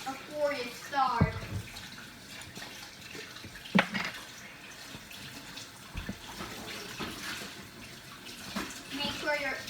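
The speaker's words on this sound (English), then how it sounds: "make sure you wash your hands at least once before you start" Hands being washed under a running kitchen tap, the water gushing and splashing unevenly into the sink with a few louder splashes and a knock, and a voice briefly heard.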